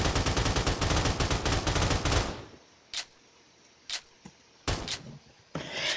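Gamepass weapons firing in a Roblox shooter: a rapid automatic burst runs for about two seconds, then several sharp single shots ring out, separated by near silence.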